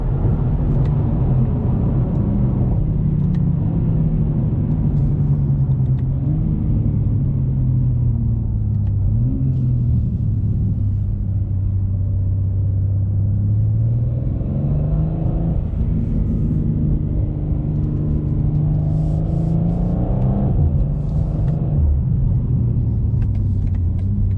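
A BMW M2 on a short drive, heard from inside the cabin: a steady, loud engine rumble that rises and falls in pitch as the car accelerates and shifts, with no talking.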